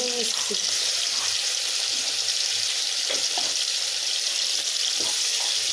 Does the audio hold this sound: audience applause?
no